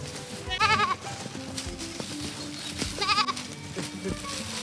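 Several goats bleat on a free-range farm in the Philippines, near a bamboo goat house, with two wavering bleat bursts standing out over steady outdoor background noise.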